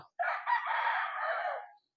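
A single rooster lets out one clear, close crow lasting over a second and a half, heard alone without talk.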